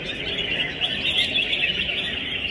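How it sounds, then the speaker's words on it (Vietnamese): Competition songbird at a bird-singing contest in Cẩm Phả, Quảng Ninh, calls in rapid, continuous chirping bursts, bright and close, with no talk over it. "khi cất được nhiều tiếng ché như vậy thì chú chim có đủ lực để đi sâu hay không?"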